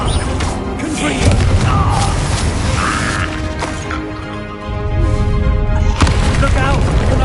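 The Confringo fire spell bursts in Hogwarts Legacy during a loud battle with a troll, heavy booming impacts and crashes layered over a continuous dense din, with a voice shouting amid the chaos.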